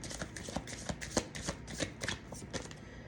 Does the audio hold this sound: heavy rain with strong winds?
no